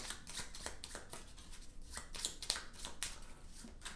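Playing cards shuffled by hand for a Burgle Bros board game session, giving quick papery riffles and soft slaps in short bursts, close and fairly quiet, with no talking.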